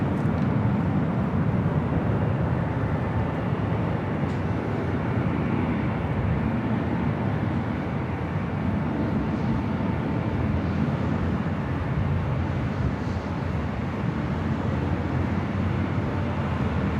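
Delta Boeing 767-400ER jet rolling for takeoff on runway 24 left at LAX, a steady broad roar of engine noise held at a constant level throughout, heard from a distance with no talk.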